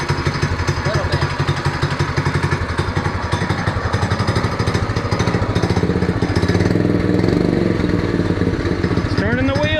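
A Predator 212 small engine swapped into a cheap Chinese ATV runs close and loud with a fast, even, chugging putter that builds slightly in intensity toward the end.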